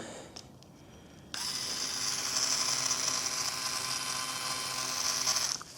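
A Walbro fuel pump mounted in a Honda Civic EF fuel hanger whirs with a steady electric drone for a few seconds. It starts abruptly and stops abruptly, heard close up in a quiet space.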